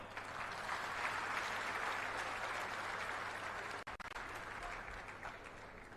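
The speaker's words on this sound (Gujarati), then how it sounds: "હજી એક તાળી પાડતો જે કાર્યકર્તા પછી બેસી ગયા એના માટે." Steady applause from an audience at a BJP political meeting in Manjalpur, Vadodara, continuous clapping for the full stretch with a brief dip near the end, moderately distant.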